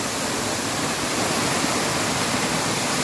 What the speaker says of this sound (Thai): อยากอยู่กับน้ำตกนี่แหละนะสดชื่นนะคะ